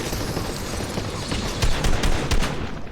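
Rapid gunfire in a competitive Fortnite match, a dense burst of shots with a few sharper, louder cracks standing out, heard without any talking.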